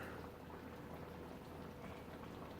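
A pot of keto chili bubbles steadily on medium-high heat as it reaches a gentle boil, giving a soft, even, continuous bubbling and popping, fairly faint and close by with no voices.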